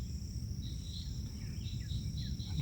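Southern cricket frogs calling in the Geneva Wilderness Area: a faint chorus of high, rapid clicking trills repeating over steady outdoor noise, with no voices.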